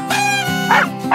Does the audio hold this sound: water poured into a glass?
no